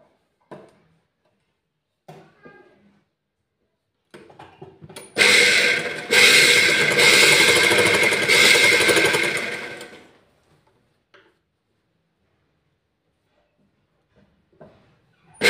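A sewing machine stitches a straight shoulder seam on a four-tuck blouse in one loud, continuous whirring run of about five seconds, with a short pause in the middle. Faint scattered handling noises come before and after.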